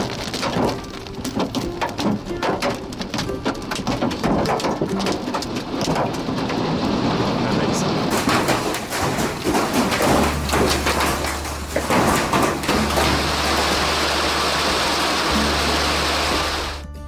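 Giant hail pounds down in a Great Plains storm in May 2023, a dense, loud clatter of sharp impacts mixed with heavy rain and a low rumble underneath, continuing steadily throughout.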